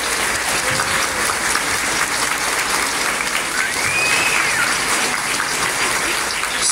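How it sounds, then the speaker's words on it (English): Applause for a teacher at an end-of-year school program, with a large audience clapping steadily and densely, close and sustained for several seconds, and a few faint whistles mixed in. "can we give her a round of applause?"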